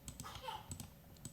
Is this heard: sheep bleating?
no